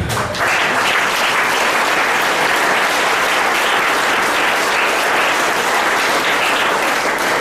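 A church congregation applauds throughout during a pastor's sermon, a dense, loud, continuous clapping from many people with no pauses.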